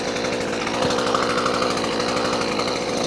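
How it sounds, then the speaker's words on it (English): Chainsaw running steadily while cutting firewood logs outdoors, a loud continuous buzzing drone with no pauses, close by and alone without talk. "we'll get the first logs chopped up"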